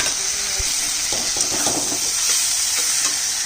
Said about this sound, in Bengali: দিয়ে দিচ্ছি ভাজা আলু আর বেগুনটা।